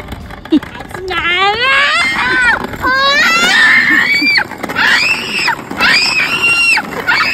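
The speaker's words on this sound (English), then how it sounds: "Stop screaming!" A young child screams repeatedly in shrill, rising and falling shrieks, loud and close, in several bursts with brief gaps between them.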